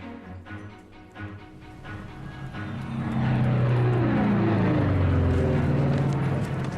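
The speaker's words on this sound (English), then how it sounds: "we pulled a few strings and got the RAF to let the odd spy plane slip through" A propeller-driven spy plane of the WWII-era RAF passes overhead, its engine drone rising from faint to a loud, steady roar with a slight pitch shift as it nears.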